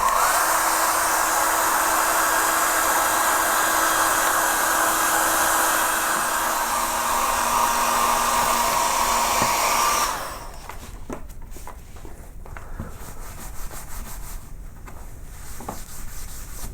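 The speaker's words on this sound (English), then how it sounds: "with a hairdryer I melt it so that the beeswax goes into the pores of the wood" Hairdryer blowing steadily at close range for about ten seconds while melting beeswax into carved linenfold wood, then cutting off to leave quiet room tone with faint rubbing and small handling sounds.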